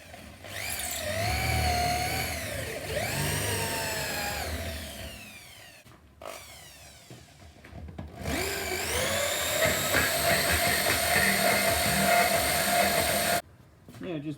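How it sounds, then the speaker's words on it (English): A power tool whines steadily as a carburettor adapter plate for a supercharged nitrous postie bike is sanded smooth, loud and close, pausing briefly before starting up again. "just a bit of a sand off to make it smooth"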